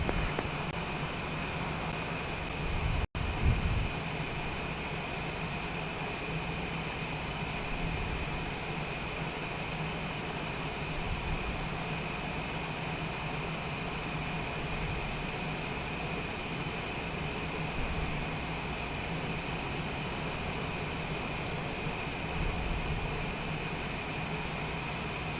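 A Cessna Citation C700 jet in Microsoft Flight Simulator is pushed back at Munich airport. Its engines give a steady, even hum with a high whine, broken once by a brief click.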